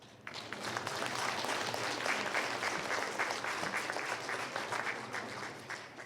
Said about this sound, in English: let's give all of us a round of applause